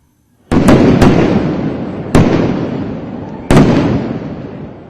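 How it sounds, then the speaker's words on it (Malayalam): Sample fireworks from the Thiruvambadi and Paramekkavu groups at the Thrissur Pooram festival go off in four loud, sharp blasts. Each blast is followed by a rumbling, crackling tail that fades slowly. Nobody speaks. "തിരുവമ്പാടി പാറമേക്കാവ് വിഭാഗങ്ങളുടെ സാമ്പിൾ വെടിക്കെട്ട് വർണ്ണശബളവും ശബ്ദമുഖരിതവും"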